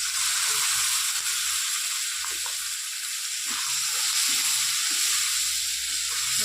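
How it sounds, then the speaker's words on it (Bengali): Ground tomato dropped into a hot frying pan of spice paste for an onion- and garlic-free jackfruit and prawn curry, giving a loud, continuous sizzle with a few soft stirring scrapes and no talk. "বেটে রাখা টমেটোটা দিয়ে দিচ্ছি"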